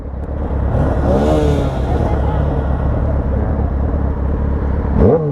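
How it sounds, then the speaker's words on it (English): A mini motorcycle's small engine runs loud and close, with rising and falling revs and a sharp throttle blip near the end, while a voice talks over part of it. "rev it."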